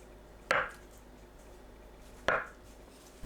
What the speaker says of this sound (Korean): 두부는 반 가르고 1cm 두께로 썰어주세요.